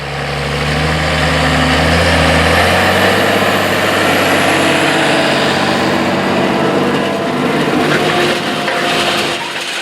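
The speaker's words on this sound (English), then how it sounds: "Let's head out to the field so you can see and hear all this tractor action." Farm tractors pulling heavy tillage and no-till machinery across Midwest crop ground at spring planting, a loud steady engine drone with deep low rumble, continuous and close for the whole stretch, no talking.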